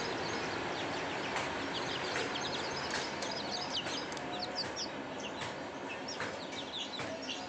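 Free-range village hens cluck while chicks peep in quick, overlapping calls throughout, a busy, close poultry chorus with no voices.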